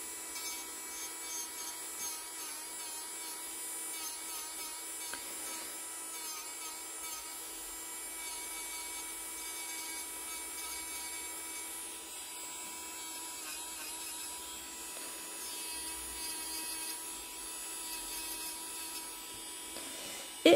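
An electric nail drill bought on Amazon files fingernails with fine-grit bits, giving a steady, faint high whine with light grinding and rubbing texture that runs continuously for about twenty seconds without talk.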